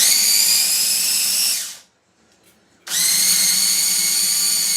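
An electric food processor on its grind setting whirs loudly through crab dip ingredients, running steadily, cutting out for about a second, then starting again at full strength, close by.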